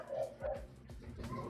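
A dog barks in short, yappy bursts, two quick ones and then another, heard at a moderate distance with some room noise.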